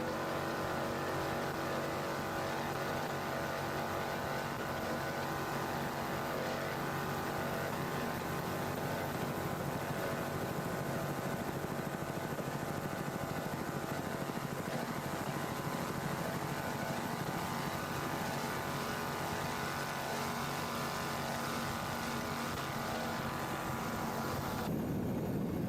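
A 24-foot Carrera racing powerboat's engine roars at a powerboat race, a loud, steady, broadband drone that continues without a break for about 25 seconds before dropping off right at the end.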